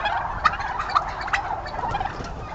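Turkeys on a turkey farm of about 2,500 birds gobble in a dense, overlapping chorus, steady and close, with repeated throaty bursts rising above the crowd noise and no talking.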